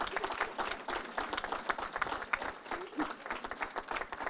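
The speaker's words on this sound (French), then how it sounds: "Donc je pense qu'on peut l'applaudir" Audience applause at a French science talk on neurodevelopmental disorders, a dense sustained burst of many hands clapping that fills the room steadily throughout.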